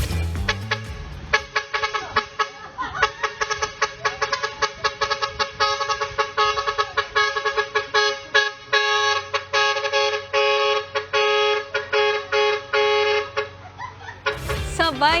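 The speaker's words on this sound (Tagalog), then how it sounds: "sumasayaw sa busina ng truck" Truck horn honking in a rapid rhythmic pattern in Alabat, Quezon, loud and close, with a series of repeated bursts and beeps that continue for most of the stretch, with some music-like tones mixed in.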